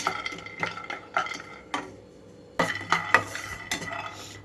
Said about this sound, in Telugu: ఆయిల్ వేయకుండానే పల్లీలు వేసి వేయించుకుంటున్నాను